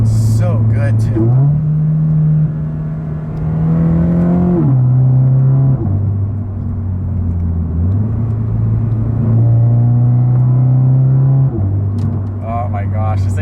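A modified car rumbles along back roads with a deep, loud exhaust note, pulling through gear changes as the pitch climbs and drops, with a voice talking over it at the start and end.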